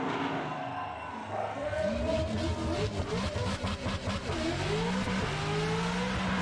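A car doing a burnout at Summernats, with a fire at the rear, its engine revving loud and steady and tyres squealing throughout, a crowd noise and a commentator's voice running over it.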